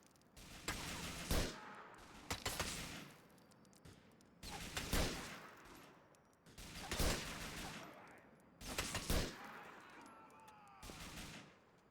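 Bursts of rapid gunfire from a shootout in the video game Grand Theft Auto IV, four or five loud clustered volleys spaced a couple of seconds apart, with no talking.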